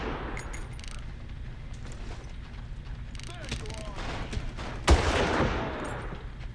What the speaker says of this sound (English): I imagine the bullets from our sniper rifle this big actually do hit that hard.